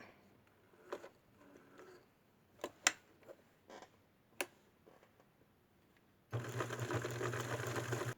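A sewing machine thread-sketching stitches around a shirt shape on fabric starts after a few soft clicks and taps, then runs loud and steady with a fast, continuous mechanical whir until the end.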